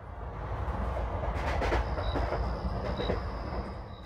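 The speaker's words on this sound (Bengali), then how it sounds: "ট্রেন এসে থামলো ঢালা স্টেশনে" A train rolling along the rails, a loud continuous rumble with rhythmic clacking wheels and a faint high squeal joining partway through.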